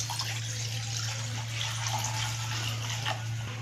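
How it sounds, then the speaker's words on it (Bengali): Water poured into a kadai on the stove in a home kitchen, a steady soft splashing and trickling stream that runs throughout at low volume over a constant low hum. "কড়াই জল দিচ্ছি"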